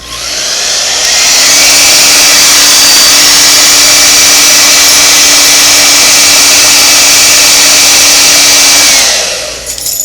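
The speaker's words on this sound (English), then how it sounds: "I just use a hair dryer." A loud, steady hair dryer blows continuously at close range while drying cleaned metal parts from a Singer foot pedal, holding one even whine from start to finish before cutting off near the end.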